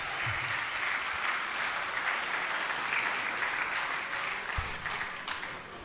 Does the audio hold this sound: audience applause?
yes